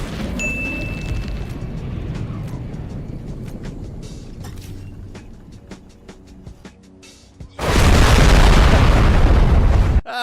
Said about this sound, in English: The difference is here's the explosion here.